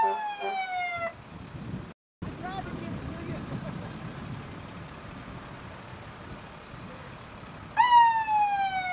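A fire engine siren wails in rising sweeps at the start and again near the end, heard during a 2014 holiday parade in Fairfield Harbour, with a low vehicle rumble and crowd noise in between.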